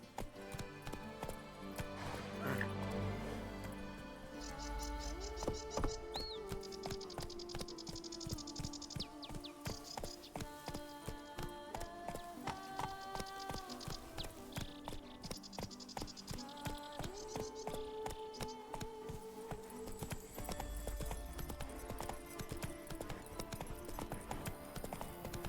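Roach, the horse from The Witcher 3 game, galloping with steady rapid hoofbeats under continuous game music, with a brief neigh near the start.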